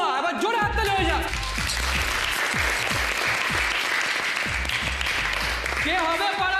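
A studio audience at a neighbourhood best-daughter-in-law contest on a Bengali TV show breaks into loud, sustained clapping and cheering, with music and a host's voice rising at the start and end.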